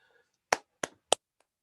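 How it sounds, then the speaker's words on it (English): Three sharp, separate hand claps ring out against near silence, spaced roughly evenly, followed by one faint tap, like a small scattered round of applause over a call. "just give them a round of applause"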